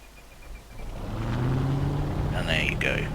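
A P-38L Lightning piston engine in Microsoft Flight Simulator 2020 cranks and catches, its rumble building into a steady drone with a whirring tone layered on top, loud and close.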